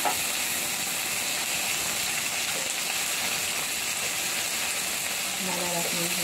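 Garlic and tomatoes sautéing in a hot pan, a steady loud sizzle and hiss with faint stirring scrapes. Near the end, a voice speaks briefly over the frying.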